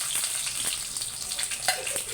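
Mustard seeds and cumin crackle and sputter in hot oil for an upma tempering, a close, dense hiss of sizzling with scattered sharp pops, fairly loud and without speech.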